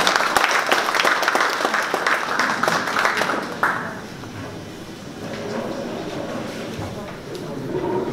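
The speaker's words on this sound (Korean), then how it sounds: "큰 박수로 환영해 주시면 감사하겠습니다." Audience at a plastics forum applauds to welcome a former environment minister taking the microphone, a dense, sustained clapping that fades after a few seconds into quieter room noise and murmuring.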